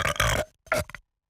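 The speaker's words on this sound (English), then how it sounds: "Did you know that everyone burps?" Two burps from a person, a long loud belch followed by a shorter second one, close and alone with no talking.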